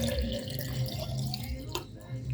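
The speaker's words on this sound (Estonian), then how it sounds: "Ma võtan vee ja kallan selle siia sisse." Water is poured into a container for a simple water experiment, a soft trickling and splashing with a few drips, fairly quiet, with faint background noise.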